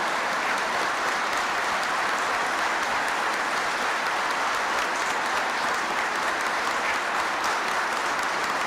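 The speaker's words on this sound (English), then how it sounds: "I know that applause is for all World War I veterans." Dense, steady audience applause for World War I veterans at a 1993 Veterans Day address by the President, continuous and even throughout with no talk over it.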